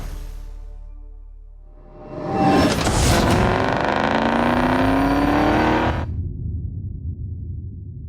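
An electric Ford Mustang Mach-E drives off. A smooth synthetic whine swells in and climbs steadily in pitch, holds loud for several seconds and then cuts out, leaving a low hum.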